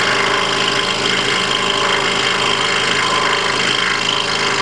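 Scroll saw cutting an inside corner, a loud, steady buzzing whine with a fast vibrating chatter that runs continuously without a break.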